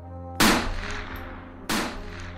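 Two sharp gunshots from French soldiers crack out in a folk ghost story drama, each a loud, sudden bang with a short decaying tail, spaced more than a second apart.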